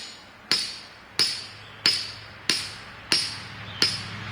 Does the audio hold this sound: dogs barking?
no